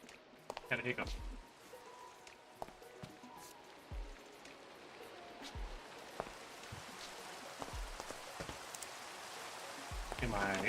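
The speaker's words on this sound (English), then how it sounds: "is it storm warning or is it just rain?" Rain patters in a modded video game, a steady wash of fine droplets with scattered sharper drips and taps, continuous and moderately close, no talk over it.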